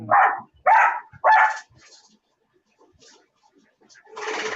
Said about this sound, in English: The dog say he want to talk too.